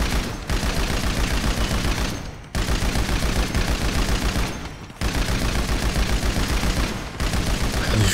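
Rapid bursts of gunfire on a GTA 5 shooting range, loud and continuous for stretches of about two seconds, broken by short pauses between volleys.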